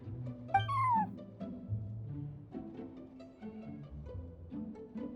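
A cat meows in Genshin Impact: one clear, rising-then-falling meow near the start, over soft, continuous background music.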